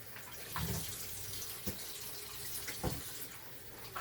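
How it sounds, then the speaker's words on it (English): Cold water runs from a kitchen tap into a bowl to soak chicken, a steady close splashing stream with a few louder gushes and clunks, with no one talking. "cold water with lemon juice"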